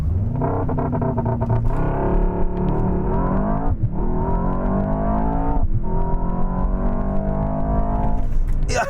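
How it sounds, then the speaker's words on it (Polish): An 802-horsepower Mercedes S-Class launches and accelerates hard, its loud engine note climbing steadily with two brief dips at gear changes, close and dominant throughout. "jak ten samochód przyspiesza, jaka kakofonia dźwięków wydobywa się tutaj"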